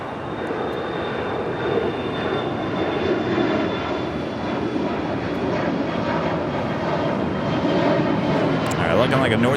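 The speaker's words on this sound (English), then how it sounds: "Coming in from Calgary, that is Air Canada, flight 577 on the 737 MAX 8." An Air Canada Boeing 737 MAX 8 on approach to runway 24 right at LAX gives a steady, broad jet roar that holds and slowly swells, with talk running over it.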